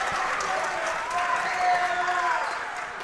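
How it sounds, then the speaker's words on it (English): A home crowd at a varsity boys basketball game applauds, a steady wash of clapping and cheering heard from across the gym, moderately loud and sustained. "As you can hear the applause from the Suburban crowd."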